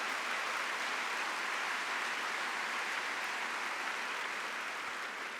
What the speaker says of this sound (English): give yourselves another round of applause for what this represents